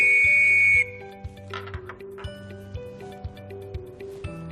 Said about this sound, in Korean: 한번 호루라기로 불어보겠습니다.